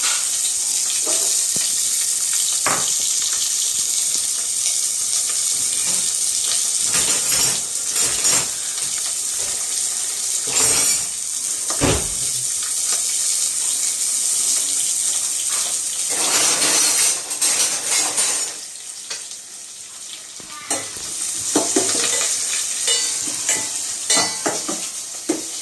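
Steady loud sizzling of chopped onions frying in hot oil for cauliflower gravy, with occasional scraping and stirring clinks from a utensil against the pan.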